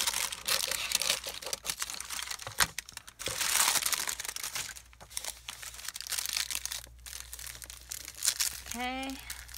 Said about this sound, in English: we are going to use this great tissue paper